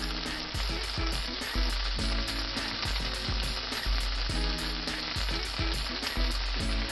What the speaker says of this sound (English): As you see that sizzle around there, that's what's going to give you that nice golden edge,